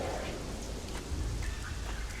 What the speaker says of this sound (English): Inevitably, it began to rain